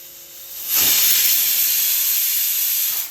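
A loud, steady hiss of steam bursts in and holds for a couple of seconds before cutting off, like a pressure cooker venting its whistle.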